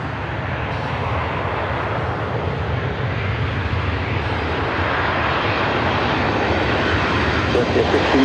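A United Boeing 737-900ER arriving at LAX from SFO roars overhead on approach, a loud, steady broadband engine drone that holds throughout.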